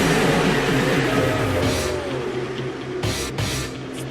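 Modified race cars of around 600 horsepower at a Radford, Virginia race, a loud steady roar of engines that holds throughout and swells again near the end.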